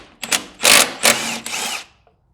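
Power tool, likely an impact gun or drill, backing bolts out of the transmission on a Ford 7610 diesel tractor under restoration, running in three or four close, loud bursts separated by short pauses.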